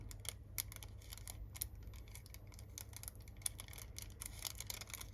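Faint, irregular snips of small scissors cutting nail art foil, a quiet scattered series of light clicks over a low steady hum, with no talking.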